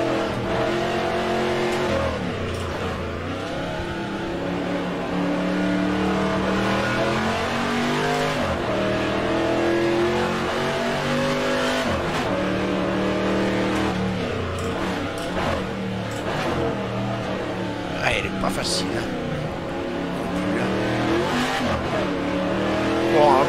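A Chevrolet race car engine roaring in rFactor 2 with the Aussie Legends mod, revving up and down through gear changes continuously and loudly, with occasional tire squeal and someone talking over it.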